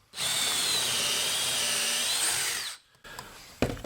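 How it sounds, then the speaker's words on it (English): A power drill runs in a Kreg pocket-hole jig, boring into a piece of wood with a loud, steady, high whine for about three seconds. It then stops, followed by a few faint knocks and handling sounds. "Drill our holes."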